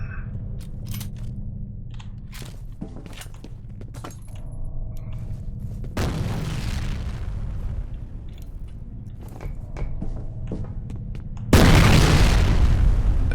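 Explosions boom in the shooter game F.E.A.R., with two loud bursts standing out over scattered clatter, clicks and pops of combat and no one talking.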